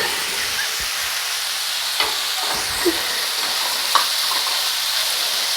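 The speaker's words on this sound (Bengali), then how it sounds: "টমেটোগুলো একটু নাড়াচাড়া করে ভেজে নিতে হবে।" Tomatoes being stirred and fried in a pan for a spicy egg curry gravy, with a steady sizzle and hiss and a few soft scrapes and clinks of the spatula.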